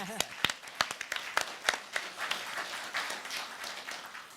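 Scattered audience clapping at a synagogue graduation Shabbat service, a few distinct hand claps at irregular intervals, fairly close, thinning into a soft patter with talk around it.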